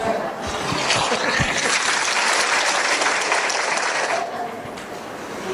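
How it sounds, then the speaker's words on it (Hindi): Loud, dense applause from a live audience at a Jain religious discourse and cultural programme, sustained for about four seconds before tapering off. "एक बार जोरदार तालियां हो जाए।"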